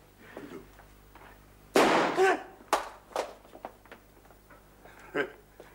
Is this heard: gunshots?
yes